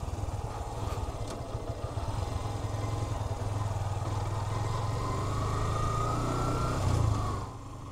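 A Yamaha FZS-V2 motorcycle rides a narrow trail in the Tetulia border area. Its engine drones steadily and close throughout, swelling slightly louder near the end before easing off, with no talking.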